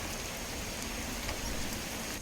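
Steady rainfall in the video game Skyrim, a dense continuous hiss of falling drops that stays even and fairly loud throughout, with no voices.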